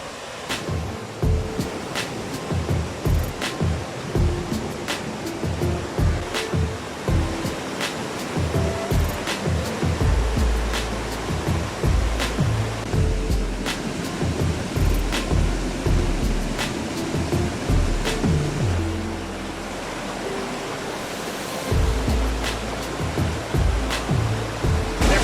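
The Salto del Diablo waterfall on Río Claro in Támesis, Antioquia, pours in a dense, continuous broadband roar with surging water rushing throughout, loud and steady with no voices.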